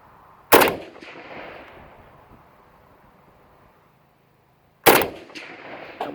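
Two loud, sharp rifle shots from an Arsenal AK47 fired outdoors at a steel silhouette target 125 yards off, each crack followed by a fading echo, separated by a few seconds of quiet.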